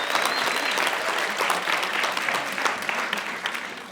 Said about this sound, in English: Give a round of applause for everyone that participated.